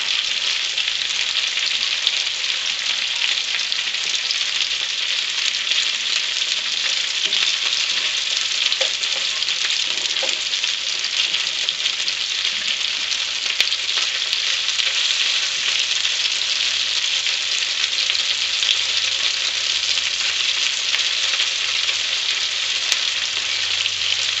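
Flour-coated morel mushrooms frying in a pan of oil give a loud, constant crackling sizzle that holds steady throughout, with a few faint clicks and no voices.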